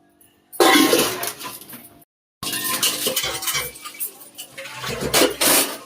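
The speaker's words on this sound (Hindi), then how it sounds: "बर्तन धो के फ्री हो जाती हूँ।" Dishes are washed at home as metal pots and utensils clink, scrape and rattle close by, loud and irregular, with a brief silent break midway before the clattering resumes.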